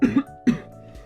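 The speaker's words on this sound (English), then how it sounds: "hold on one sec, I gotta get a cough." Two quick, close coughs in succession, harsh and brief, followed by a short pause and a faint throat sound.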